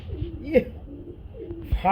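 A pair of Giribaz pigeons coo in soft, low, rolling bursts close by, with people talking over and around them.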